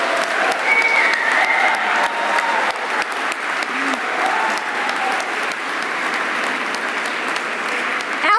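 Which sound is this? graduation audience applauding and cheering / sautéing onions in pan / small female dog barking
graduation audience applauding and cheering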